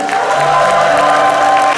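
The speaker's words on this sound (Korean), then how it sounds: "안정원 의원님께 커다란 박수와 함성 부탁드릴게요" Audience at a book launch event applauding and cheering steadily, dense continuous clapping with crowd noise filling the whole stretch at close range.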